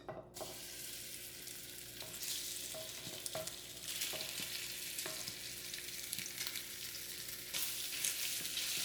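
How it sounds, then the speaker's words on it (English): Steak searing in oil in a pan for black pepper steak, a continuous loud sizzle with intermittent clacks and scrapes of stirring, swelling in bursts, no talking. "Next, we're going to cook the steak first."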